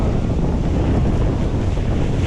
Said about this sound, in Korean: 바람이 장난이 아닙니다.